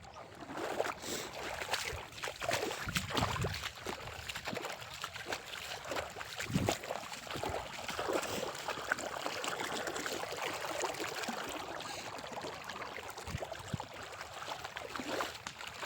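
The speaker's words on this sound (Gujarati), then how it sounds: "પાણી જોરદાર આવે" Irrigation water flows strongly through a field channel, a continuous rushing and gurgling wash that stays steady and fairly close for the whole stretch, with no voices.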